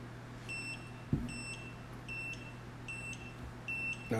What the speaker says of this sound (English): This buzzer is going to drive me nuts.